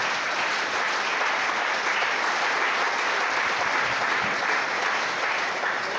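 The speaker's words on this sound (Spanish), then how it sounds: "Fuerte el aplauso para nuestro Señor." A congregation at a doctrinal symposium in a church setting claps continuously, a dense steady wash of applause from many hands held at an even level for several seconds.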